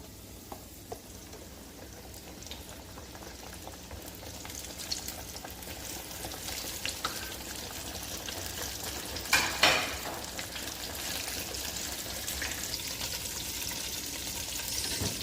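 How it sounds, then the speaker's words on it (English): Fish fillets laid into heated oil give a faint, continuous frying hiss that swells into a louder sizzle and a couple of pops partway through, with light crackling continuing afterward. "So our oil has heated up. Now I'll put my fillets."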